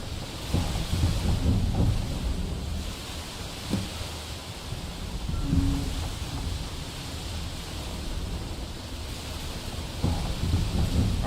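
Continuous howling ash storm ambience at Raven Rock in Skyrim, a broad low rumble with gusty swells over about eleven seconds, no speech.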